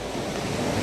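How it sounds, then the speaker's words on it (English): Ocean surf rolls onto a quiet Costa Rican beach, a steady wash of breaking waves filling the moment with a soft, continuous roar and light wind buffeting the microphone, with no voices. "Just listen to the waves."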